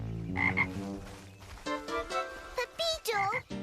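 A cartoon frog croaks repeatedly in short, tonal, warbling bursts, loud and close, amid a lively animated scene with background music.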